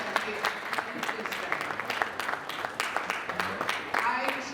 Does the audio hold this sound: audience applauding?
yes